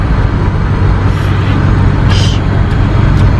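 A car overtaking on a highway, heard from inside the vehicle as a loud, steady engine and road roar, with a brief rush of a passing vehicle partway through.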